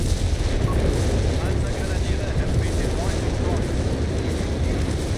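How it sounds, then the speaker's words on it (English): Massive artillery barrage in the video game Company of Heroes 3: dense, continuous rumbling booms and blasts piling over one another, loud and sustained, with a caster talking over the bombardment. "Massive amount of artillery here."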